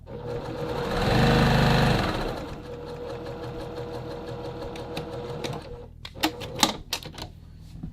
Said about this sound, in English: we'll bring those dart legs together and sew toward the end